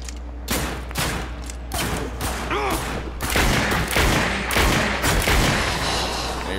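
Sustained gunfire from The Darkness II video game, a dense fusillade of rapid shots and booms that stays loud throughout with little pause.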